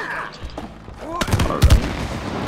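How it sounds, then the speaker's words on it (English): Shooting in It Takes Two, a few sharp bursts of shots and thumps clustered in the second half after quieter game sounds, with a voice talking nearby. "use the weight and then shoot that shit"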